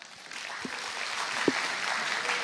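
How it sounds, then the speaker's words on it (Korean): A church congregation applauds as children come forward to sing, a steady moderate clapping wash with a few louder individual claps standing out, continuing evenly throughout. "우리 친구들 나와주실 때 큰 박수 부탁드리겠습니다"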